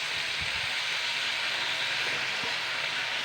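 Mixed winter vegetables frying in a wok with no added water, a steady broadband hiss and sizzle held at an even level throughout, with no voices.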